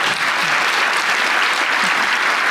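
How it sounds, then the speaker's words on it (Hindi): A studio audience at a Pakistani comedy talk show breaks into steady, dense applause that fills the whole stretch, loud and close, with no talk over it. "ताली बजा लो बेटा, अच्छी बात"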